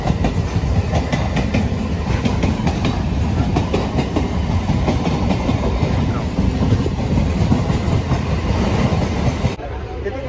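A passenger train on the Tambaram to Rajahmundry route rumbles steadily along the tracks, a loud continuous roar with faint clickety-clack of wheels, heard from inside the carriage.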